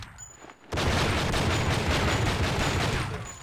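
Rapid gunfire in a street crime video game set in Los Angeles, a dense loud continuous barrage of shots and booms that starts abruptly and keeps going for about three seconds without talk.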